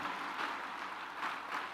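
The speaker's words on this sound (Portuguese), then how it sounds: "Vamos dar um aplauso ao Senhor" Church congregation at a Pentecostal service applauding, a steady dense wash of many hands clapping together throughout, swelling slightly in waves, with no voices standing out.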